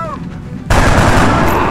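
Gunfire from the video game XCOM: Enemy Unknown hits as a sudden loud burst of shots that cuts in partway through and stays harsh and sustained, covering faint game sounds before it.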